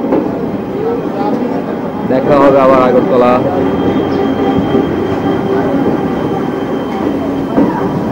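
An Indian passenger train running from Agartala to Silchar makes a steady, loud rumble of wheels and carriage noise throughout, with a brief squeal-like tonal rise in the middle, under a person speaking.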